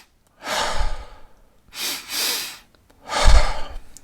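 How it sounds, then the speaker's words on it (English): Physiological sigh: two quick breathy inhales through the nose, then a longer, louder exhale out through the mouth, close up with no talking. "it's called the physiological sigh. So it's 2 rapid inhales through your nose and then kind of a sigh out through your mouth"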